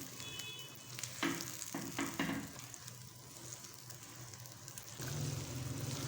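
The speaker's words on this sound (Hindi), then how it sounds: "अब हम खशखाश की अच्छे से बनाई करेंगे। फ्लेम को हमने मीडियम रखना है।" A poppy seed (khaskhas) mixture roasts in a pan over a medium flame, giving a steady sizzling fry with a few stirring scrapes. The sizzle grows louder and fuller near the end.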